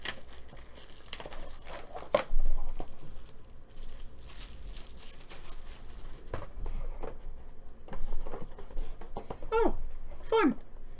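Plastic shrink wrap crinkles and tears as it is pulled off a Red Rising board game board, with close, irregular rustling bursts throughout and a person talking over it.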